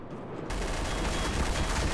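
Rapid gunfire from a golden weapon in the video game Garry's Mod Trouble in Terrorist Town erupts after a quiet start and carries on as a dense, continuous burst of shots.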